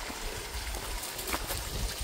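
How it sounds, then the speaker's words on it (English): A cascade of waterfalls in the Sugar Creek canyon along the Ouachita Trail gives a steady, fairly faint rushing of water with no voices. "Just walking along this beautiful cascade of waterfalls."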